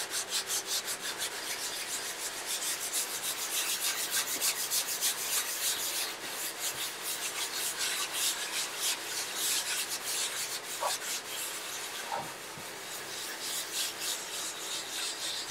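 A wooden box's finish is rubbed with a rag pad loaded with abrasive pumice, producing a continuous close, scratchy rubbing that keeps an even back-and-forth rhythm with no speech.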